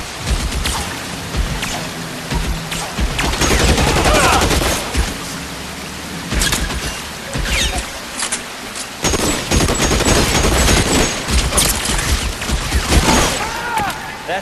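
Rapid bursts of gunfire in the LA Noire video game, loud repeated volleys and single shots mixed with crackling debris and a rain-like hiss, fairly close and sustained with brief pauses between salvos.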